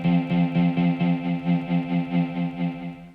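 A synth air pad played in Beatmaker 3 pulses in a steady repeating rhythm, a warm sustained chord that swells and dips about four times a second, with a chorus-like shimmer and no voices.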